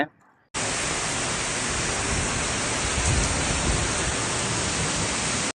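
Rain falls in the UAE as a loud, dense, even hiss that starts abruptly and holds steady for about five seconds before cutting off.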